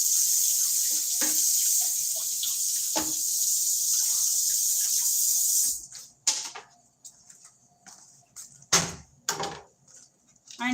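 Kitchen tap water runs steadily over ginger being rinsed, a loud hissing stream for about six seconds, then shuts off, followed by scattered clunks and handling noises at the sink.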